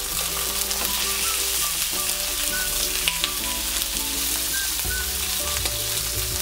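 Chicken pieces searing in a hot pan, being browned crisp before braising for Andong jjimdak, with a steady close sizzle throughout and occasional stirring scrapes and clinks, no talk.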